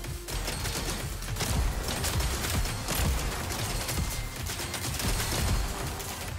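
Dense, loud weapon fire from a giant mech in the Uragun video game, a continuous barrage of rapid shots and blasts that roars steadily without pause and without talk.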